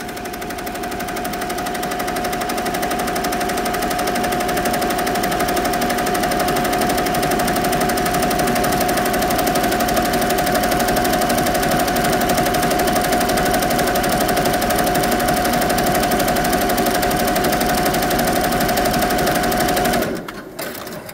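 A custom embroidery machine stitches lettering in a fast, steady mechanical chatter that runs loud and unbroken for about twenty seconds, then stops abruptly near the end.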